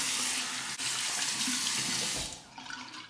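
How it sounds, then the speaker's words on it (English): Hot water runs steadily from a bathroom tap into a shaving bowl, a loud, close splashing hiss that changes pitch and tapers off near the end as the flow is shut. "Warm up my Shave Nation bowl under the hot water."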